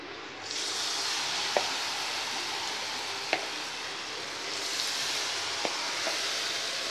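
Eggs frying in hot oil for a Tamil-style egg Manchurian, a steady broadband sizzle close by that swells after a moment, with a few faint clicks of a utensil against the pan and no talk.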